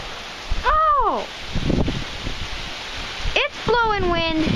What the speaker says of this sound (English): It's blowing wind.